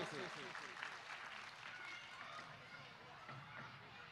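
Audience applause fills a religious sermon at a Jain Panchkalyanak gathering in Shahgarh, a steady dense wash of many hands clapping throughout, fairly distant and even, with voices mixed in.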